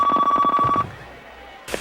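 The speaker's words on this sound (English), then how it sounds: "Pick up the phone, Miss Shepard." A telephone rings with a bright electronic trill, pulsing rapidly for nearly a second before cutting off, leaving quiet room tone and a brief bump at the end.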